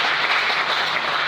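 A church congregation applauding and cheering for the Lord during a sermon, a dense, steady wash of many hands clapping throughout.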